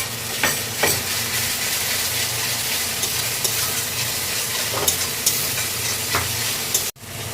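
Garlic, ginger and coriander root paste fries in a hot pan with a steady, close sizzle, broken by a few soft stirring scrapes and a brief dip near the end.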